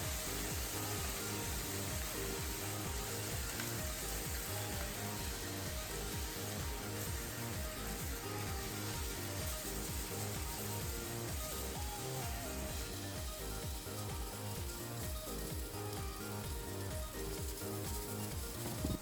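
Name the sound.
pork, seafood and noodles frying in pan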